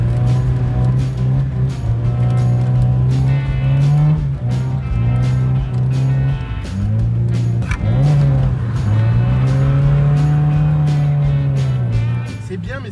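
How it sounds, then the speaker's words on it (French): A car drifting and sliding on a wet, rain-soaked road, its engine note droning steadily with rises and falls in pitch as it revs through the slide, loud and continuous throughout. "vous montrer à l'image comment glisse la voiture"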